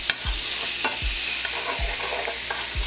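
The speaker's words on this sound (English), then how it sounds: "a little bit of minced garlic. Another minute on this with the garlic" Minced garlic and onion sauté in a pan while cooking country-style BBQ ribs, a constant close sizzle with four or five dull thumps of a utensil stirring at regular intervals.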